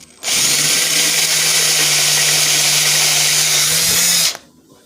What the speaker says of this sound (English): I think you know how to drill a hole.